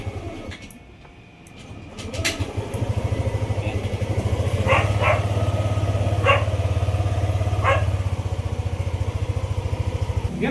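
Yamaha Aerox 155 scooter engine idling nearby after a stalling fault was repaired, a steady close putter with a low pulsing beat, plus a few faint higher chirps in the background.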